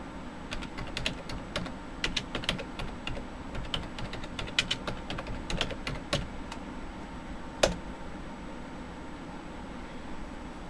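Rapid keystrokes on a computer keyboard entering partitioning commands for a bootable Windows USB drive, a steady run of light clicks with scattered louder taps and faint background hiss, no voices.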